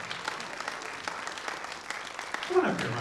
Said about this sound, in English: Big round of applause for a fursuiter who didn't know they were going to help us out.